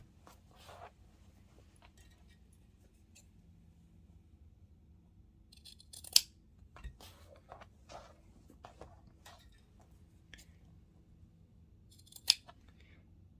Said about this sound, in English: trim the corners, so in that way when we are flipping them inside out, the corners should be straightening up